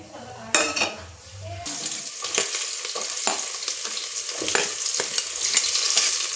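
Whole spices for veg biryani are dropped into hot oil in a pan. They sizzle and crackle steadily, with a few clinks and scrapes of a utensil against the pan nearby.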